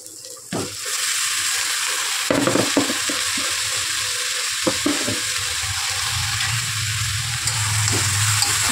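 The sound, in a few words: ridge gourd frying with onions in a pan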